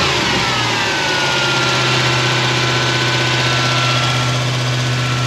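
A Toyota 1UZ V8 with its original early MAF sensor idles in a steady, even drone, loud and close, with no pause or revving and no talk.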